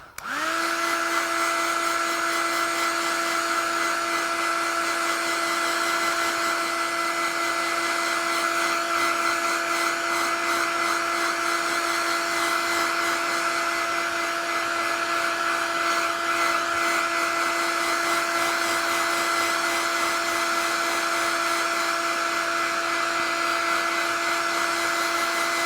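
A hair dryer blows steadily and loudly at close range for the whole stretch, drying a wet watercolour painting with a constant whirring hum and no pauses.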